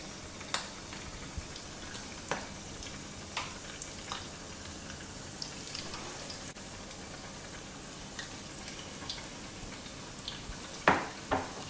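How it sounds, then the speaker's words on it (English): Oil crackles and sizzles steadily as chicken lollipops fry in a pan, with occasional sharp pops and utensil clinks, close up and fairly quiet. "I'm frying the lollipops."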